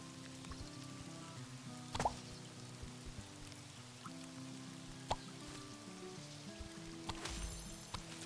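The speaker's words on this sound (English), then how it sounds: "It's raining" Soft patter of rain in the Cropdeck farming game, with scattered plops and drips over a faint steady background and low musical tones, quiet throughout.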